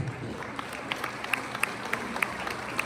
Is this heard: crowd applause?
yes